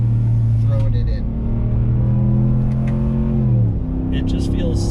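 A 2022 RAM Rebel G/T pickup truck in second gear, with a loud steady engine drone from inside the cab that climbs in pitch, drops briefly around a shift, then pulls again.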